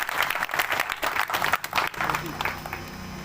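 A village rally crowd applauds in uneven bursts for about two seconds, then fades into murmuring and background hum, with voices mixed in.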